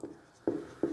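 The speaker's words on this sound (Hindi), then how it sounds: "लिखेंगे यहां" Pen or chalk writing by hand, three short scratchy strokes spaced apart, close and fairly quiet with no voice.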